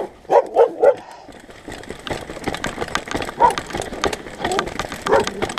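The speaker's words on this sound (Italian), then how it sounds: "Ciao cagnolino." A small dog on a mountain bike trail near Como gives three quick, loud yaps up close, then a few scattered barks over rustling, clattering outdoor noise.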